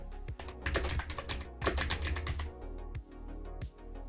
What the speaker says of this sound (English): people can hear me typing